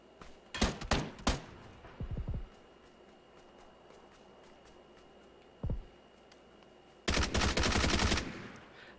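Gunfire in the battle-royale game PUBG: a rapid cluster of loud shots early on, a few single reports, then a dense sustained burst near the end, with no talk.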